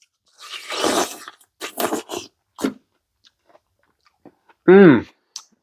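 Someone eating watermelon close to the mic, with wet crunching bites and chewing in short bursts, plus a brief vocalised hum of enjoyment near the end.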